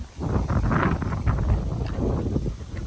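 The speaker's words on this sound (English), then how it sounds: "It's so windy." Gusty wind buffets the microphone in rough, uneven bursts, a steady roaring rumble with no voices.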